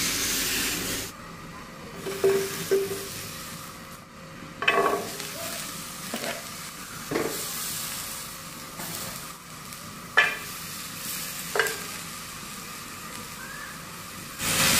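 A covered pot of food simmering over a low flame in a home kitchen for spicy ayam gepuk, giving a steady hiss with a few sharp clatters and knocks spread through it, and no talking.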